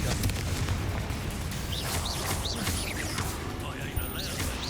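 A Confringo fire-blast spell detonates during Hogwarts Legacy combat, a dense, loud, continuous roar of booming rumble threaded with repeated rising-and-falling magical whooshes, sustained for the whole stretch without letting up.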